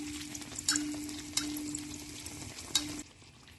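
Sweet appam sizzles steadily in hot oil, a soft continuous frying hiss with a few faint clinks of a utensil stirring and lifting the pieces.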